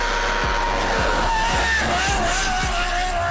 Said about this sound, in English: this MK5 Supra uses a 730 horsepower Judd F1 V10 engine